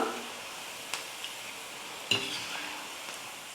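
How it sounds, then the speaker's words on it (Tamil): Pakoda fritters made with onion and wheat flour frying in hot oil over lowered heat, a steady soft sizzle broken by a few sharp clinks and scrapes of a spoon stirring them, close and moderately quiet with no talking. "அப்பப்போ கரண்டியை வச்சு நல்லா கலந்து கொடுத்தோம்னா நல்லா வெந்து கலரும் மேலே வந்திருக்கும்"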